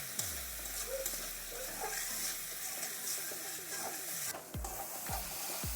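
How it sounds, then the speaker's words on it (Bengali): Bengali spice masala with turmeric and salt being sautéed in a pan, a continuous close sizzle with repeated scraping strokes of a spatula stirring, no talk. "দিয়ে ভালো করে একটু কষিয়ে নেব"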